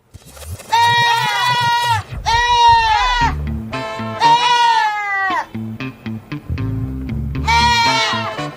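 Several goats scream in loud, harsh, wavering bleats, long drawn-out cries in bursts with short gaps, close and dominant, with lower bleats in between.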